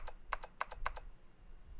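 Typing on a computer keyboard in a video game: a short burst of quick, evenly spaced key clicks, close and fairly faint over a low background hum.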